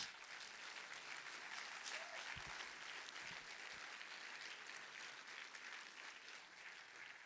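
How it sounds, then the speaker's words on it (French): A festival closing-ceremony audience applauds continuously, steady even clapping that sounds fairly distant and quiet, with a few faint low thumps mixed in. "On va les applaudir très fort, mesdames et messieurs."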